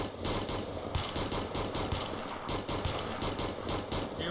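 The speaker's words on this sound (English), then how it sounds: "the machine gun are close." Sustained automatic machine gun fire from close range in the military shooter Arma 3, a dense continuous stream of rapid bursts with steady loudness and no pauses.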